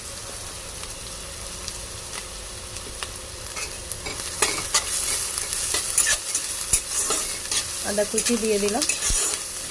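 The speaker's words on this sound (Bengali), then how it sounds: "পেঁয়াজ একটু ভালো করে ভেজে নেব, লাল করে।" Chopped onion and ginger frying in hot oil, a constant bright sizzle with stirring scrapes and clatter that grow busier partway through, heard close up, with a brief spoken phrase.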